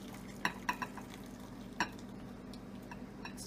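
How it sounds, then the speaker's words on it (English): Spicy noodles sizzling in a pan, a soft steady frying hiss with a few sharp clinks of a utensil stirring. "Nice and tasty sizzling."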